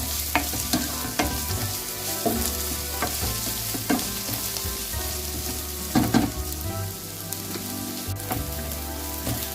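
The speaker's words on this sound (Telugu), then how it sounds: "అల్లం వెల్లుల్లిపాయతో సహా ఉల్లిపాయలు చక్కగా వేగిపోయాయి, బంగారం రంగులో వచ్చినాయి." Onions with ginger-garlic paste fry in a pan, a constant loud sizzle broken by repeated scraping stirs of a spoon against the metal.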